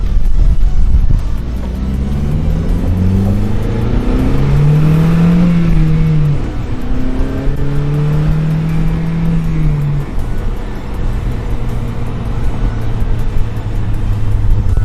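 Honda Civic Si fitted with an Injen intake accelerating on the road, engine note rising through the gears in long sweeps under steady road and wind noise, heard from inside the car with no talking.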